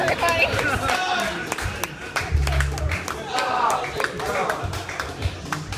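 An audience at a comedy roast claps for the band, steady close applause mixed with crowd chatter and whoops for several seconds.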